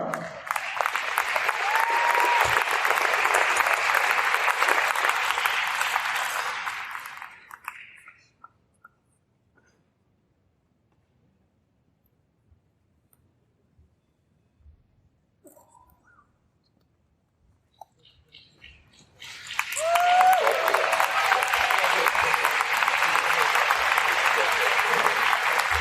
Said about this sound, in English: all of your applause one more time